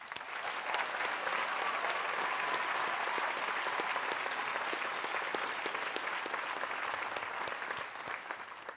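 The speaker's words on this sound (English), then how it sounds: "Let's give them all a round of applause." An audience at a college commencement ceremony applauds, dense sustained clapping filling a large hall at steady loudness, tapering slightly near the end.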